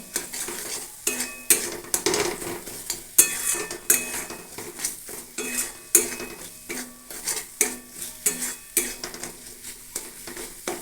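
Green jackfruit cooks in a pan while a spatula stirs it in steady, repeated strokes, each bringing a scrape and clink of metal over a low frying sizzle.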